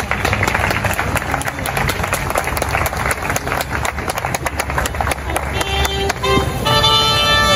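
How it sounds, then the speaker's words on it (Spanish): Loud, sustained audience applause fills a church wedding celebration as the groom enters, with dense clapping running throughout alongside background music and voices. "denle un fuerte aplauso al Señor"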